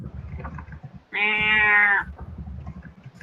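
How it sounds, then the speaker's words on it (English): A cat lying on the pavement of a backyard lets out one loud, drawn-out meow lasting about a second, close by and clear above a low, murmuring background. "There's like this cat laying out on like the pavement of my backyard"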